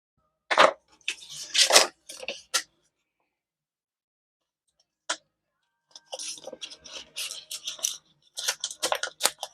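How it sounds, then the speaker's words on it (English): Cutting planner paper straight across along a ruler with scissors or a blade: bursts of crisp snipping and scraping close by, a short cluster early, a long silent pause, then a steadier run of quick cuts toward the end. "Let's take my little ruler and just cut straight across here."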